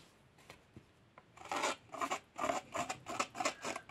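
The flat of a cutting tool scrapes and drags across scrapbooking paper for a 3D tissue box, several close, dry rasping strokes in quick succession after a few faint taps.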